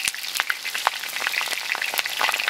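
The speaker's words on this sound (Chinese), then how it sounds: "铁锅烧肉，加入油，1碗的姜蒜， 这样炒一下啊" Ginger and garlic frying hard in hot oil in an iron wok, a dense close crackling sizzle with sharp spattering pops throughout, no voices.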